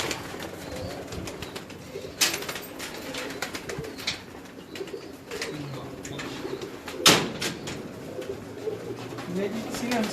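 Pearl pigeons cooing in a sweet shop setting in Gujranwala, with soft repeated coos over a busy background of chatter and clatter, broken by a couple of sharp loud knocks.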